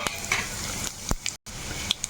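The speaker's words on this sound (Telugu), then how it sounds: "నూనె కాగింది కదండి. నేను పోపు దినుసులు వేసుకుంటున్నాను." Tempering spices such as mustard seeds, cumin, chana dal and urad dal sizzle in hot oil with a dense crackling hiss, punctuated by a few sharp spattering pops and a spoon clink, close up.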